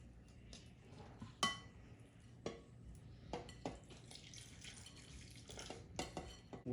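Bula flour stirred with water in a bowl, a spoon clinking and scraping against the sides in scattered, irregular strikes over a low, quiet background.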